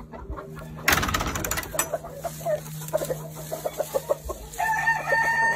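Gamefowl hens cluck in short repeated bursts while a gamefowl rooster crows nearby, with a loud outdoor clatter near the start.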